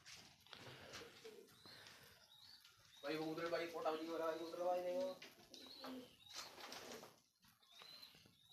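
Soft, throaty pigeon cooing swells near the middle, with mutterings of bird sounds and a voice talking around it, on a rooftop with a pigeon loft.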